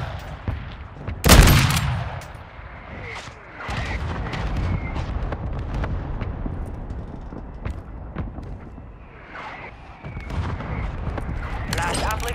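An artillery fire-mission strike in a Call of Duty-style Resurgence match, a loud blast near the start followed by rolling rumbles and scattered gunfire, with voices talking over the battle.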